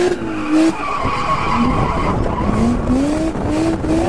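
A Mazda RX8 drifting, its tires skidding in long, loud squeals that slide up and down in pitch over the engine's roar, nearly continuous through the run.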